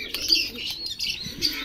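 Pigeons in a pigeon loft, several short coos and chirps in quick succession close by, with faint flutters of wings between them.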